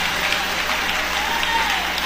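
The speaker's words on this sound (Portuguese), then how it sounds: "quero que vocês aplaudam a Jesus Cristo." A church congregation applauds loudly during a Portuguese-language worship service. Continuous, dense, hissing applause holds at a steady, strong level throughout, with no clear pauses.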